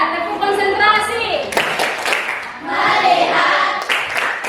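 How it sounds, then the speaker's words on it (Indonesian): A classroom of students claps a rhythmic concentration clapping pattern, with bursts of hand claps mixed with children's and a teacher's voices chanting along. "tepuk konsentrasi"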